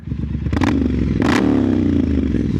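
A Triumph Scrambler 900 motorcycle engine rumbling close by with a deep exhaust note from its high pipe, rising into a brief rev, plus some rattling clatter.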